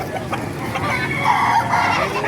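Gamecock roosters, including white Kelso, at a market. They crow and cluck loudly and close by, with their calls overlapping in a dense, busy din.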